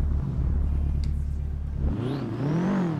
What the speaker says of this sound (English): the exhaust is so good